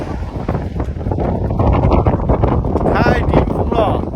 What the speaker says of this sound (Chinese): 兄弟们，刮大风了